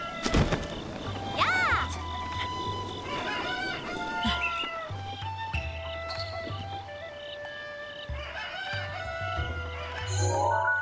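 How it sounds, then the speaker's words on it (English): In-game chickens from Zelda: Breath of the Wild cluck and squawk repeatedly over a busy bed of game music and ambient effects, with a sharp rising squawk near the start. "How'd you get up here, chicken? You can't even fly."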